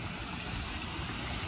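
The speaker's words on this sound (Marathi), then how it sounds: "आणि इथे पण असं मस्त पाणी वाहतंय" At a hotel in Phuket, water flows steadily by a shallow children's pool, a dense, even rushing wash that stays constant and close with no breaks.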